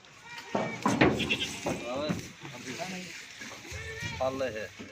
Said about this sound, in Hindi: ये बकरी जा रही है